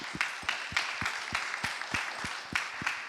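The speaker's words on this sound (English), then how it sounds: "a quick round of applause as well for everyone" A small audience at an awards event claps briefly for the finalists, a few distinct hands beating in a loose, fairly even rhythm close by.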